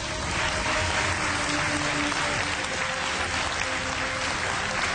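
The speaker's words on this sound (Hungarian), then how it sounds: "Köszönjük szépen a bátorító tapsot a hölgyeknek." An indoor audience at a Miss Hungary beauty pageant claps steadily for the contestants, a dense, even wash of applause that holds at the same level throughout.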